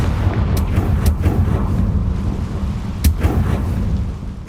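Confringo fire-blast spell in the Hogwarts Legacy game, a dense run of heavy rumbling booms and crackling blasts, loud and continuous, with sharper cracks punctuating the roar.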